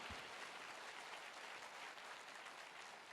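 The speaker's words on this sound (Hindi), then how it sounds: "मैं चाहूंगा जोरदार तालियां हो हमारे गुरुजनों के लिए" Crowd at a motivational talk applauding teachers, a continuous wash of many hands clapping, even and sustained from start to finish, heard at a distance and faint.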